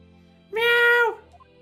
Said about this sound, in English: It's good, isn't it, Mr. Kitty Cat?